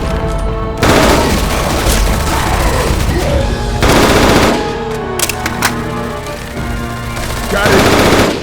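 Bursts of rapid automatic gunfire from a Left 4 Dead 2 zombie shootout, loud and close, coming in several dense volleys with booming hits between them and no talk over it.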